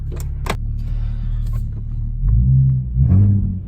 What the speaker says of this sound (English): The exhaust pretty much burbles.